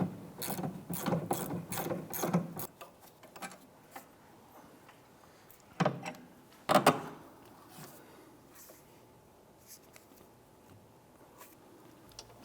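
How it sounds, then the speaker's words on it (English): A 15mm socket and ratchet backs off the sway bar end link nut on the right rear shock of a 2001-2005 Honda Civic, with quick bursts of ratchet clicking at first, then a few short isolated clicks and clanks. "using a 14mm thin wall wrench and a 15mm socket and ratchet, I'm going to go ahead and remove this nut"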